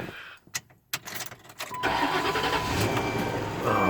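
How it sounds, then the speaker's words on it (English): A car engine cranks in a few short bursts, then catches and settles into a steady, loud idle as it warms up, close by with no talking. "warm the car"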